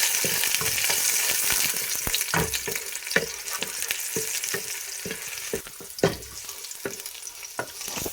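Green onions fry in about four tablespoons of hot oil, giving a steady crackling sizzle with scattered sharp pops and occasional stirring scrapes throughout, close and fairly loud.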